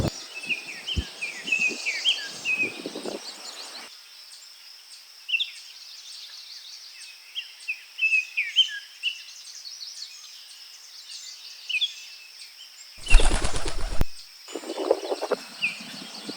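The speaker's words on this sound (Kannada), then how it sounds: "ಸಖತ್ ಬರ್ಡ್ಸ್ ಎಲ್ಲ ಇದೆ, ತುಂಬ ಚೆನ್ನಾಗಿದೆ" Forest birds in the Anamalai Tiger Reserve give faint, scattered chirps and short trills over quiet, foggy air, interrupted by a sudden loud burst of noise.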